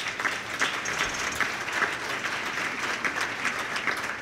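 Audience applause at a conference, a dense steady wash of many hands clapping that holds throughout without a break.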